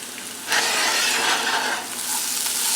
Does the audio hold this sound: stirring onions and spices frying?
yes